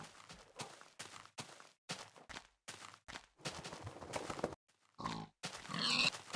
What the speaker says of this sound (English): There's some more pigs.